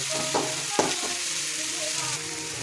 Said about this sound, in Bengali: মাছের ডিমটাকে একটু ভাজা হতে দেবো।